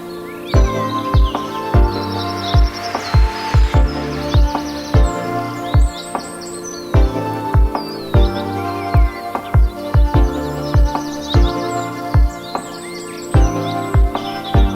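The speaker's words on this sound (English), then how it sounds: "You can hear the birds, feel the fresh air, and just enjoy the peaceful atmosphere." Birds chirp and sing continuously in park trees at Auckland Domain over a steady background, with repeated bright calls and regular low knocking pulses throughout.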